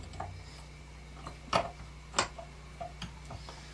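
A ratcheting handle socket turns to tighten a screw, giving sparse dry ticking clicks with two sharper, louder clicks near the middle, close and quiet, with no voices.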